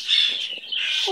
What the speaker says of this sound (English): What a nice bird you are